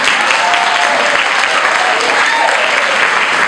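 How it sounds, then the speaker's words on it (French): A church congregation claps steadily throughout a Sunday service sermon, a dense, continuous wash of applause filling the room at close range with no break. "Acclamez-vous les femmes."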